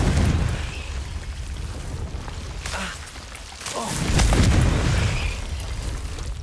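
The Confringo fire spell explodes in the Hogwarts Legacy video game: a hissing, rain-like crackle leads into a heavy boom that swells midway and then fades into a rumbling tail, with no voices.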